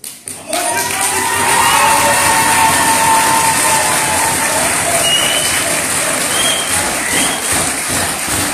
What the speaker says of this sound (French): veuillez faire un tonnerre d'applaudissements